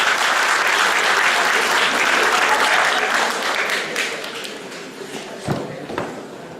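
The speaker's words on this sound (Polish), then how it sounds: "gorące brawa dla nowych studentów" Warm applause for new students at a Polish university gathering, loud and full at first, then thinning out over the last couple of seconds into a few scattered claps.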